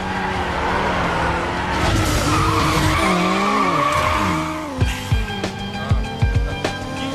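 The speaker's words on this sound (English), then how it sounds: "You also get to try on the latest driving craze for size, drift racing." Tires skid and squeal in a drift racing video game, with long wavering screeches over a roaring car engine, then sharp shifting engine bursts and thuds as the skid ends, no voices.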